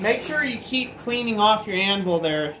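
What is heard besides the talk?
No everyday noises stand out.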